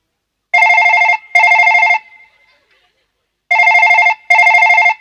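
A telephone rings late at night in two loud, close double bursts of electronic trilling, separated by a short pause, with no voices over it.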